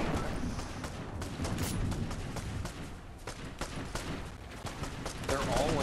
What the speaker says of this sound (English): I'm getting sniped from a weird angle